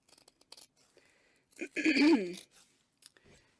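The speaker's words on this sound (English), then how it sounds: "When cutting faux fur, it can be a little tricky because you don't want to cut off your little hairs" Fabric scissors make several small, crisp snips as they cut faux fur close by, with a brief spoken passage breaking in partway through.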